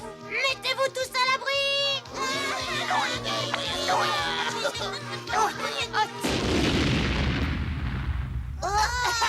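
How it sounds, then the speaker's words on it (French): A cannon goes off with a loud, rumbling boom partway through, following animated cartoon voices and music from the French dub of the cartoon Popples. "Un bon coup de canon a toutes les chances de le faire se dresser au garde à vous"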